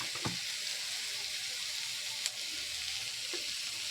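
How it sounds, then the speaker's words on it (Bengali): Raw mango pieces frying in oil with spices give a steady, moderate hiss broken by a few brief spatters and scrapes, with no voices. "মশলার সঙ্গে আমগুলোকে ভালো করে কষিয়ে নেব।"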